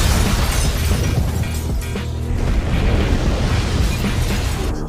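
A loud explosion in a film thunders and rumbles continuously, a dense roaring blast with debris crackle that dips briefly and surges again, filling the whole stretch with no voices.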